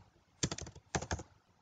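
Two quick bursts of typing on a computer keyboard while writing C++ code, a handful of close, crisp key clicks each, separated by a short pause, with no talking.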